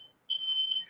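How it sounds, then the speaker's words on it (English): A smoke alarm gives a short high, piercing electronic chirp after a brief lead-in tone, loud and alone in a quiet room. "the smoke alarm."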